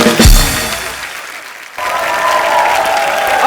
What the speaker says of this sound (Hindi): राजीव के लिए जोरदार तालियां।